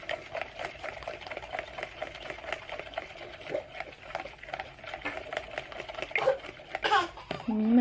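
Vegan quiche filling, seasoned with black salt, being mixed in a bowl with a steady scraping, tapping rhythm, close and moderately loud, with a few sharper clacks near the end.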